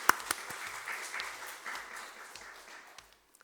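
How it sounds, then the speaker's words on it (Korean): Church congregation applauding in encouragement of district leaders standing during a Sunday service, a brief burst of clapping that tapers off and fades out after about three seconds. "크게 격려의 박수 부탁드리겠습니다."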